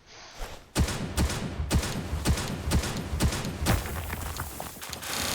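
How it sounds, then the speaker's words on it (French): Shotgun blasts used to mine rock in the video game Palworld, with a series of sharp, loud reports fired in a steady rhythm roughly every half second, followed by a rougher stretch of impacts. "Nouvelle technique de minage, le minage au fusil à pompe."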